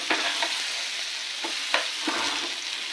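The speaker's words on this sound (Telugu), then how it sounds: "ఇవన్నీ ఇలా వేసుకొని మనం సిమ్లో పెట్టి మనం వేయించుకోవాలండి" Fish pieces fry in a pan on a low flame, a steady close sizzle broken by a few sharp stirring or turning clatters, with no talk.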